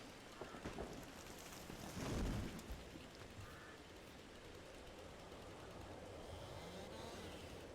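Steady November rain on a farm as winter approaches, a soft continuous hiss and patter with a brief louder swell early on, fairly faint and without speech.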